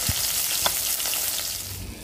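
Fish fries in a pan with a dense, continuous sizzle and small crackling pops, close and fairly loud. No one speaks.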